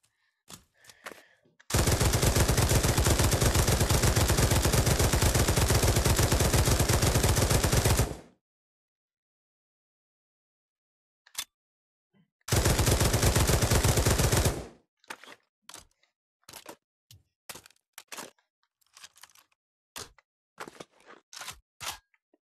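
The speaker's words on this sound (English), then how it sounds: "Next one will be the LMG." A light machine gun fires in the VR game Pavlov: two long, loud sustained bursts of rapid automatic fire, followed by scattered single clicks and handling noises.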